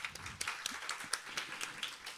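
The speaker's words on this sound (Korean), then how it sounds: "박수 한번 좀 부탁드릴까요?" A brief, fairly quiet round of clapping from a conference audience at a youth public diplomacy event. Individual claps are distinct, giving a sparse, uneven patter.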